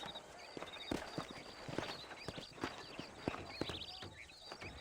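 Horse hooves clip-clop in Red Dead Redemption as the horses travel toward Armadillo, a quick, uneven run of crisp hoofbeats close by, mixed with soft ambient game sound.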